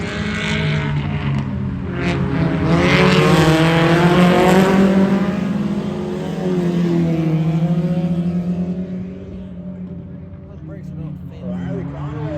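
Race cars roar continuously around a dirt track, engines droning loud and steady with rising and falling pitch as they circle, while an announcer calls the action over them throughout.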